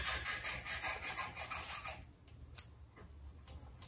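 Valve being lapped by hand on an old 5 hp Toro snowblower engine, a rhythmic back-and-forth gritty rubbing, about ten quick strokes close up, then it stops with a faint click.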